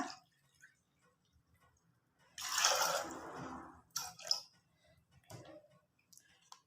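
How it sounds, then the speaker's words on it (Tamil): Water pours into a cooking pot for mutton dalcha in one clear burst lasting about a second, followed by a few faint splashes and clinks in an otherwise quiet kitchen. "இந்த கப்பில் வந்து இரண்டு கப்பு தண்ணீர் ஊற்றுறேன்"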